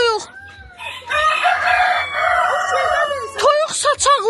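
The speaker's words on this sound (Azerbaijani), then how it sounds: "Saçaqlı toyuq." A frizzle chicken lets out loud, close crowing calls with rising and falling notes, followed by a few sharp, clipped clucks near the end.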